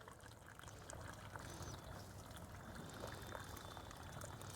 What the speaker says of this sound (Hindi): अच्छी तरह से पानी दे देंगे।